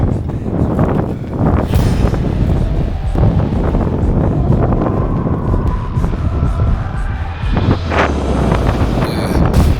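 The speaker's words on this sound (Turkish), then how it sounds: "Deli esiyor." Strong gusting wind on a hilltop during an e-bike ride, loud continuous buffeting roar across the microphone with rustling bursts and a few brief surges.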